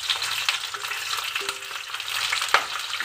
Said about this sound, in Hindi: अच्छे से एक एक करके कढ़ाई के अंदर रख दी है